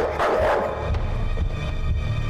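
A dog barks inside a video game, a loud, close yapping burst over steady game background noise with no talk.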